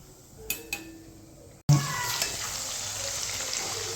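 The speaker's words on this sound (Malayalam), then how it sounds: "ഇനി അടുത്ത അണ്ടിപ്പരിപ്പ് നമ്മൾ വറുത്തുകൊണ്ടിരിക്കുകയാണ്" Steady frying sizzle of cashews in hot ghee, with a couple of light clinks early on and the hiss turning louder and fuller partway through.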